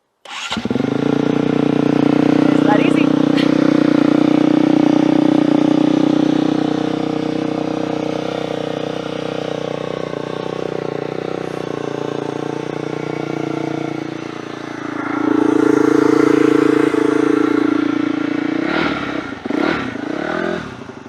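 A dirt bike engine with a pull-out choke lever fires up and runs at a loud, steady idle close by for about fifteen seconds, then revs briefly before clattering toward the end.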